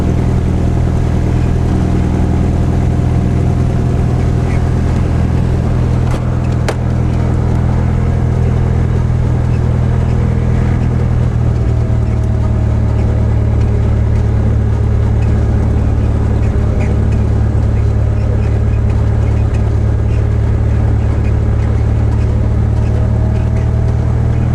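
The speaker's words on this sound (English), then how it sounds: "I usually add power to about 1000 RPM and start the taxi by including the brake check." A Mooney M20C single-engine airplane taxis with its piston engine at about 1000 RPM, a loud, steady droning hum that holds unbroken throughout.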